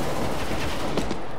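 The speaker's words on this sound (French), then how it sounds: "En plus, il me vise avec le sniper." A sniper rifle shot in CS:GO lands as one sharp crack about two-thirds through, set against a dense wash of constant gunfire and game noise.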